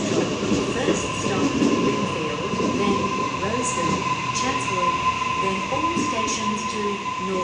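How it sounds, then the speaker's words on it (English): A Sydney train pulls into a platform at Killara station, with a continuous rumbling roll of wheels on rail, faint squeals and a steady tonal hum. The sound is close and fairly loud throughout, and distant voices and platform noise sit faintly underneath. "Penrith service arriving into platform 1"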